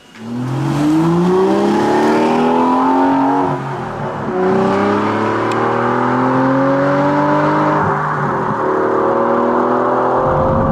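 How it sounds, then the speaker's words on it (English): A car cruises on a motorway toward Edinburgh, its engine drone heard close and loud inside, rising in pitch with a few gear changes and dipping briefly between them, with no voices. "Driving back towards Edinburgh, a little bit of motorway stint, and this car is pretty comfortable and chilled"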